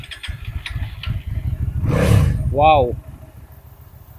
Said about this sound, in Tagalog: Try natin ang exhaust sound.